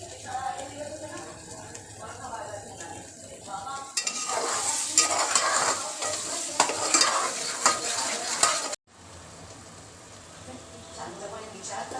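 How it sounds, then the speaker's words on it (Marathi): Masala for a village-style mutton curry stirred and frying in oil in a pan, a steady sizzle with scraping spoon strokes that grows busier partway through, close and continuous with no talk. "मटणाच्या भाजीला चांगल्या प्रकारे मसाला परतून घ्यायचा."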